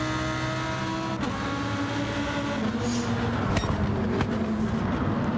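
Race car engines drone steadily in a racing video game at the Barcelona Grand Prix, a loud sustained whine with shifting pitch and a few sharp gear-change clicks.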